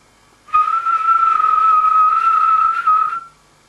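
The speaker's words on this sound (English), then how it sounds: "The guard blew his whistle." A guard's whistle gives one loud, steady, high-pitched blast lasting under three seconds, starting and stopping cleanly against a quiet background.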